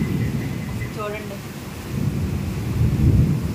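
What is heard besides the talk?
thunder during a midnight thunderstorm with rain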